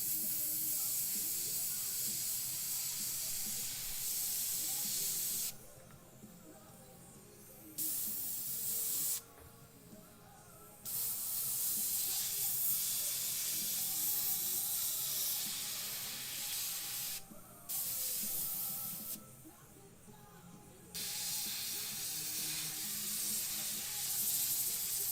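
Spray paint hisses steadily onto a tombstone bust in long, loud, close bursts, with several short pauses between sprays.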